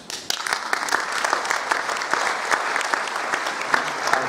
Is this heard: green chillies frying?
no